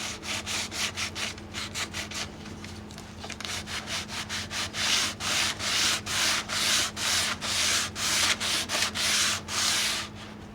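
Stain and clear coat are sanded off a wooden cabinet door resting on carpet padding, with steady rhythmic back-and-forth scraping strokes, loud and close, continuing for about ten seconds with a constant low hum underneath.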